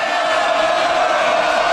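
A large audience cheers and roars in a steady wash of crowd noise after a stand-up comedy bit, loud and continuous with no clear breaks.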